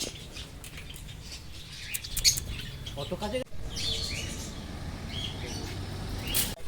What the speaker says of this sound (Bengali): এগুলো কি পাখি? বদ্রি পাখি আছে